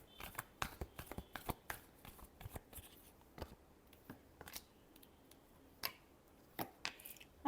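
Tarot cards are shuffled by hand in quick, irregular riffles and soft slaps, close and quiet with no voices.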